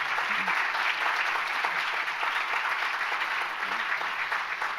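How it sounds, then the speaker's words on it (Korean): An audience at a diplomatic academy's anniversary conference gives the panelists a sustained round of applause, dense clapping from a room full of people, even and loud throughout. "토론에 수고해주신 윤덕민 국립외교원장님과 패널분들께 다시 한번 큰 박수 부탁드립니다"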